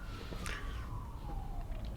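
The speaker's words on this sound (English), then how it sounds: "Sirens." A police siren wails with a falling pitch sweep, moderately loud against a steady low rumble.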